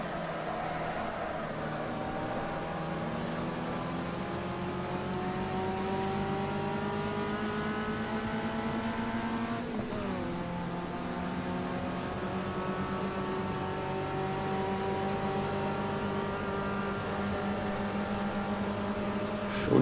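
A Fiat Uno touring car engine drones through a corner in the Automobilista racing game, holding a steady buzzing tone that dips briefly as it brakes, then climbs back up through the revs.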